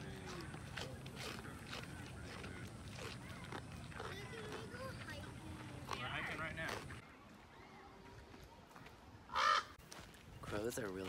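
Crows cawing outdoors near a lake and farm, with a few harsh calls cutting through steady chatter and background noise, one loud burst standing out near the end.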